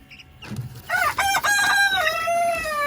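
A rooster crows loudly and close, a long rising call with strained harmonics, preceded by a few softer clucks.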